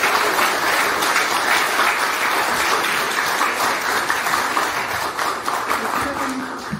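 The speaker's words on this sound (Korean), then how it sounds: "박경철 교수님께 다시 한번 큰 박수 부탁드립니다" An audience at a Korean lecture or presentation applauds with dense, sustained clapping that fills the room at an even level before slowly easing off toward the end.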